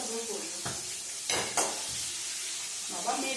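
Onions fry in hot oil in a home kitchen, a constant sizzle broken by a few short clatters of a utensil against the pan.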